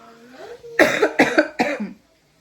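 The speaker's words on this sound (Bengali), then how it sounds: "এই কাশি আমাদের শেষ করলো" A woman coughs close to the mic, three or four harsh, rapid bursts in quick succession after a brief murmured lead-in, loud and clear before falling silent.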